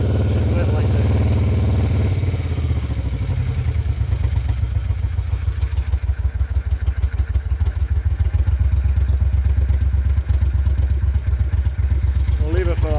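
A Moto Guzzi Eldorado motorcycle idles unevenly while cold, a loud close-up engine with a lumpy, irregular beat that starts as a rough rumble and settles into a pulsing, stumbling rhythm, with a brief voice near the end.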